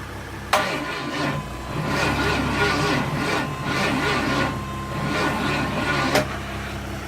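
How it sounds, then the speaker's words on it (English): A 1965 Pontiac LeMans engine cranks slowly without catching, a labored, uneven churning rhythm lasting several seconds between two sharp clicks, close and moderately loud. "Engine is still not turning. So I think not turning fast enough."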